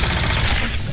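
A proton cannon attack from Iron Man in the fighting game Marvel vs Capcom Infinite, a dense, sustained blast of rapid, heavy booming fire lasting under a second, loud and unbroken with no talk.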